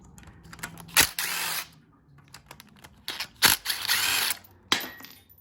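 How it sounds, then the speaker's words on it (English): Metal clicks and short ratcheting bursts come from a tool at close range as the timing chain tensioner is removed from a Honda K-series engine, with quiet pauses between the bursts and no talking. "So I'm gonna just go ahead and start taking off the tensioner."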